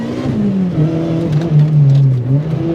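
A supercharged K24 engine in a DC5 Honda Integra Type R revs hard close by in second gear, pitch climbing and dipping through gear changes, loud and throaty with no voices.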